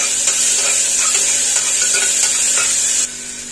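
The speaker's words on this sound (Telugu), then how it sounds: "ఉల్లిపాయలు కాస్త ఫ్రై అయ్యాక అల్లం వెల్లుల్లి పేస్ట్ వేసుకొని ఫ్రై చేసుకుందాం" Onions with ginger-garlic paste fry in oil for a bottle gourd curry, a loud, close, continuous sizzle with stirring scrapes, dropping in intensity near the end.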